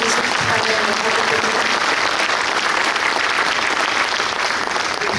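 Sustained applause from a crowd at a mayor's New Year's reception in Auffargis, steady, dense clapping that fills the whole stretch with no break.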